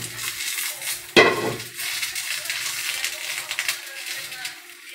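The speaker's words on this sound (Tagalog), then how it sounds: "Mag-igisa na po tayo." A sharp metallic clank of a pan or utensil, then a soft sizzle of sautéing in a pan on a stove, fairly close while a person talks in the background, cooking sinigang na tambakol.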